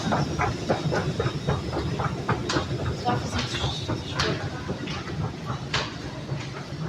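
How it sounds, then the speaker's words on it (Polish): A Hamburg metro train pulls out of an underground station, a steady rumbling roll with rhythmic rail clicks and occasional hissing bursts, heard from the platform at moderate distance. "Właśnie odjechało przed dosłownie paroma sekundami metro"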